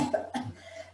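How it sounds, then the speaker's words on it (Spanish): A person gives two short deliberate coughs, close and fairly soft, as part of a respiratory therapy breathing exercise, followed by quiet breath. "Y empecemos a producir tos."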